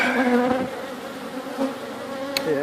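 Honey bees swarm and drone around an opened backyard hive during an inspection, a dense continuous buzz with wavering pitch rising and falling as individual bees pass close, with no talking.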